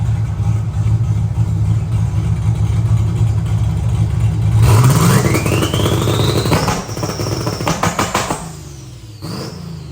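A boosted, turbocharged Foxbody Mustang sits on its two-step launch control, rumbling loudly near at hand before surging into a rising roar. A burst of sharp cracks and bangs follows, then a quick final rev.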